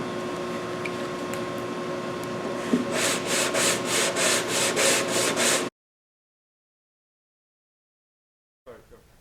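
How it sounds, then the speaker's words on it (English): Sandpaper, 220 grit, rasps back and forth over hardened body filler in about eight quick rhythmic strokes, close and fairly loud, then stops abruptly into silence. "I'm sanding it down with 220."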